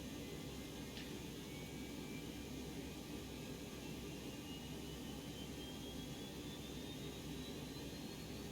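Aircraft auxiliary power unit spooling up in the X-Plane flight simulator, a steady broadband whine and rumble with a faint tone slowly rising in pitch, constant and unbroken, with no talking.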